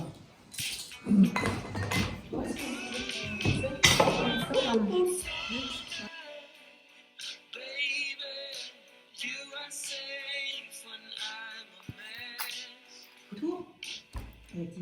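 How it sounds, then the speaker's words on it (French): Drinks are poured into glasses at a grandmother's birthday gathering, with bright clinks and knocks of glassware, a trickling pour and some talk and chatter in the room. "Chacun verse son verre"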